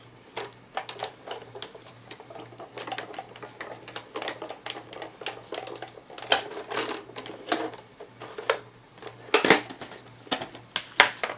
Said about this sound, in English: Once that comes out the other side of the machine, you have a beautiful embossed piece of cardstock with the frame in the center